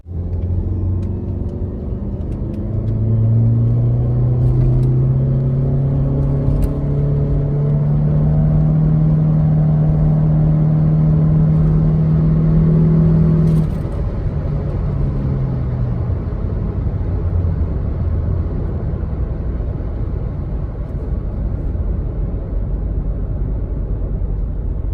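A 2017 BAIC Senova Kenbo 600 1.5 turbo SUV accelerating, heard from inside as a loud, steady engine drone whose pitch climbs smoothly, then eases back into a broad road and wind rumble.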